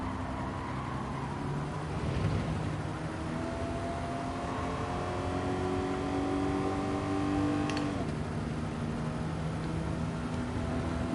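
A race car's engine revs in Gran Turismo 7 during a daily online race, a steady droning tone climbing in pitch for several seconds, then dropping sharply at an upshift before climbing again, alone and at moderate volume.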